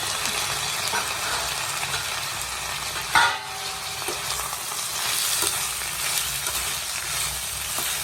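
Onions, garlic and cluster beans fry in a pan with a dense, continuous sizzle and occasional stirring scrapes. The sound stays steady and close throughout, with one brief knock partway through and no talk.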